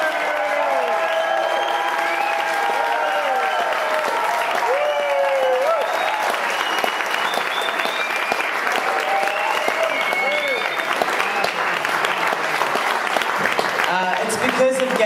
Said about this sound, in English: I would really like everyone to give Gail one last round of applause.